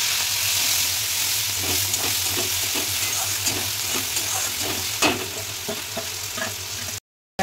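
Onion and garlic paste with whole garam masala being sautéed in oil for bhetki fish kalia, a dense continuous sizzle with rhythmic spatula scrapes, close and loud, cutting out abruptly near the end.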